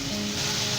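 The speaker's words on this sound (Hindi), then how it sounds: "हम इसे हाई फ्लेम पर 5 से 7 मिनट तक भूनेंगे।" Mutton with spices frying on a high flame, a dense continuous sizzle, close and steady throughout the short moment.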